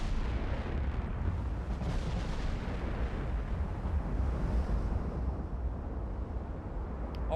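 Battleship gunfire and shell hits in the naval game Ultimate Admiral Dreadnoughts, with a Japanese fleet, make a steady heavy rumble of big-gun blasts and distant impacts that runs continuously and stays loud throughout.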